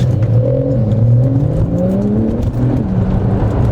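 A Porsche 911 992 Carrera 4S with a 3-litre turbocharged flat-six pulls hard under acceleration, a loud, steady engine roar heard from inside with rising tone, no talk.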